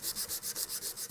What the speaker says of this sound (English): I'm going to use a backer, a G10 backed hand sanding stick